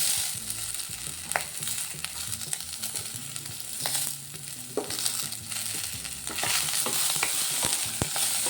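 Green chillies and onion fry in an oily pan, a steady close sizzle with occasional sharp pops and stirring scrapes, continuing without any talking.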